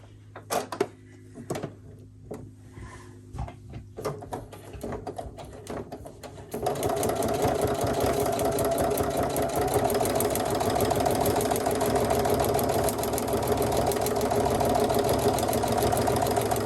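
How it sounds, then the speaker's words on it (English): A sewing machine stitches down a piece of a quilt block, starting after a few seconds of quiet handling clicks and then running as a steady, close, rapid mechanical whir through to the end, with no talking. "And now I'm going to sew that down."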